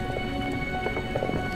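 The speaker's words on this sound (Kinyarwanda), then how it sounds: "hari urubura." Hail storm in a forest, a dense steady patter of stones striking leaves and ground, loud and continuous throughout with scattered sharper hits and a low rumbling undertone.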